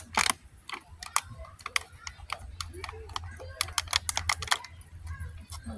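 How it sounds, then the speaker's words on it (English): Scissors snip into a thin plastic planter bowl, giving a series of sharp, irregular clicks and cuts, close up, with a low hum beneath. "snip it with the end of the scissors"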